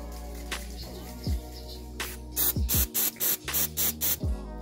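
Glue activator sprays in short hissing bursts onto a deer antler and resin ring, about eight quick puffs clustered in the second half, with faint handling noises earlier.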